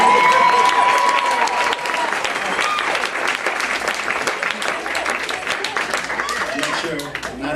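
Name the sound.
audience applause for a stand-up comedian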